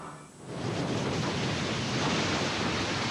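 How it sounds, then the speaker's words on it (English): Huge Hawaiian surf breaking, a loud, continuous roaring wash of waves that swells in within the first half second and holds steady, with rumbling wind-like noise throughout. "huge Hawaiian waves that look more like clouds on the horizon than water"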